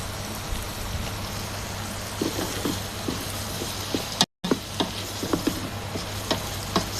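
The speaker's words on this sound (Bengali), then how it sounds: "আমার শুটকি আর পেঁয়াজ একসাথে ভাজা হচ্ছে।" Dried fish and onion fry together in a pan, a constant close crackling sizzle broken by regular scraping stirs and one brief dropout.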